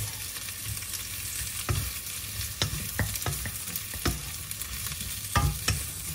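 Vegetables frying in a pan with steady sizzle underneath, broken by several sharp scrapes and clacks of a utensil stirring, irregularly spaced and close, no voices.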